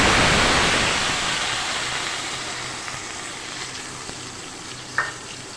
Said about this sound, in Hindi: जो ये प्याज टमाटर और दही जो पीस के रखा है हम इसमें ये ऐड कर देंगे